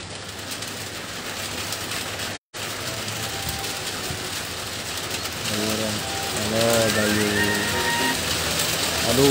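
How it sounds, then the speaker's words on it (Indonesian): Heavy rain falls steadily outside as a constant broadband hiss that swells louder toward the end, with faint tonal game-like chirps and tones layered on top and no talking. "Aduh, hujan deras."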